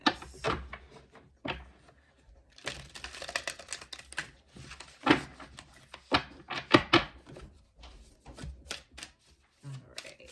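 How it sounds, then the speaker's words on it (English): A deck of tarot cards is shuffled in soft, uneven bursts of riffling and tapping, quiet and close, with brief pauses between clusters. "One more shuffle, guys."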